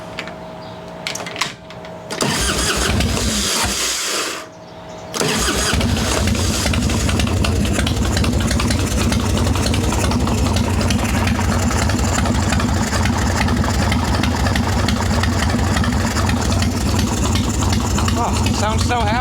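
A Harley-Davidson Evo Softail engine with a carburetor cranks, sputters briefly, then catches and settles into a steady, loud idle that runs to the end.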